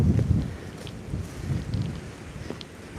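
Wind blows outdoors in winter, a low rumbling buffet that swells and eases in gusts, fairly loud and close against the microphone with no one speaking.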